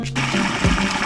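Water poured from a collapsible 5-gallon carrier into an RV holding tank, a loud steady gushing flow with gurgling, heard alone.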